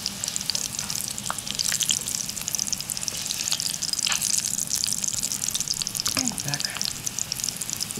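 Cutlets stuffed with pineapple and cheese fry in a well-heated pan, giving a loud, steady crackling sizzle that runs unbroken throughout, with a few faint clinks near the end.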